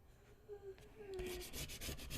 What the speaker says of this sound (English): You want to use your scraper, and it should just come right up